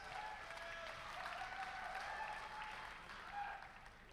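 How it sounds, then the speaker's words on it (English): A tech event audience in Lisbon claps for a speaker being introduced, a soft, distant burst of applause that holds steady and then fades out. "Please give Miguel a big round of applause"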